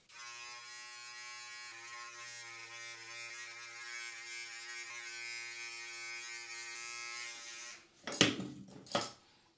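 A Philips Norelco electric clipper trims a beard, giving a steady close-up motor buzz for about seven seconds before it stops, followed by a couple of brief rustling scrapes.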